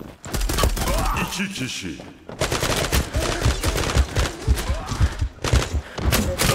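Rapid bursts of gunfire in the online shooter Zula during a construction-site map match, dense and loud with a brief lull, while someone talks briefly over the shots.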